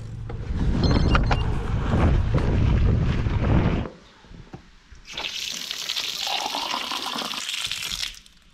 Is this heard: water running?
yes